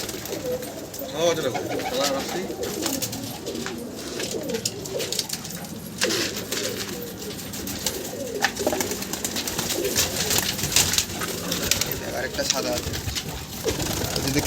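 Roller pigeons coo and murmur close by in a repeated, soft rhythm, mixed with bird calls and occasional sharp clatter, while someone talks over them throughout.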